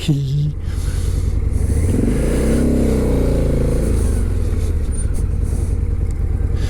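A motorcycle is ridden and then braked with the rear brake. Its loud, close engine note climbs and then holds a steady rumble for several seconds.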